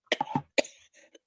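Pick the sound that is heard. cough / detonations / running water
cough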